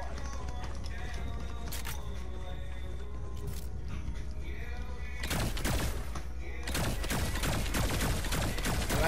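Bursts of gunfire ring out in a shooting video game, two clusters of rapid shots over a steady low game hum, fairly loud, with a voice talking faintly underneath.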